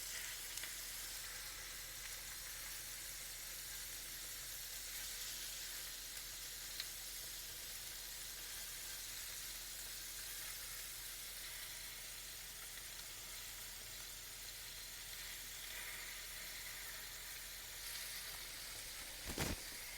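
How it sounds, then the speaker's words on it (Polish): Meat browning in a pot for a homemade collagen chicken broth gives off a steady, fairly quiet sizzle that runs throughout, with a brief clink or stir near the end and no talking. "Czekam, aż troszeczkę mięso się podsmaży."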